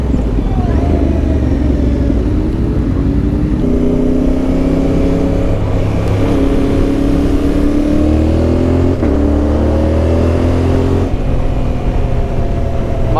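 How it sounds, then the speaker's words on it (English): A motorcycle on a Bosnian mountain road revs and rises in pitch through several gear changes, its loud engine note echoing off overhanging rock walls, continuous and close throughout. "My bike sounds fantastic reverbing off these rocks."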